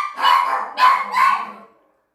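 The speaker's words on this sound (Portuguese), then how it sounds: "Toda vez que toca a campainha, que meu marido chega, os cachorros ficam enlouquecidos" Several dogs bark after a doorbell rings, three sharp, close barks in quick succession, then silence.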